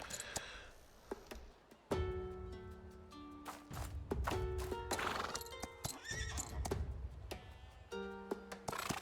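Horses in a Roman-era strategy game whinny repeatedly in sharp bursts over clip-clopping hooves, several neighs overlapping, with crisp game sound effects and no talk.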